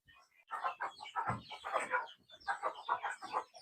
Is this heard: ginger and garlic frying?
no